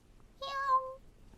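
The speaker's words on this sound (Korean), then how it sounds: "야옹, 야옹," A single drawn-out cat meow, clear and fairly close, rising slightly then fading, alone in a quiet indoor setting.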